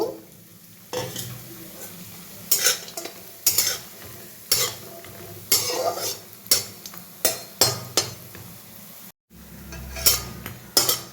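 Bori lentil dumplings fry in hot oil in a wok, with a steady sizzle under repeated sharp scrapes and clinks of a spatula stirring against the metal, close up and without voices.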